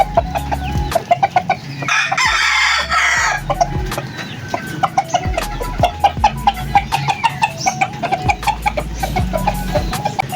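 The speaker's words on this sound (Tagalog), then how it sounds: "Nagtatawag pa ang chicks." Several chickens cluck rhythmically and repeatedly up close, with chicks calling and a rooster crowing loudly partway through over a busy farmyard background.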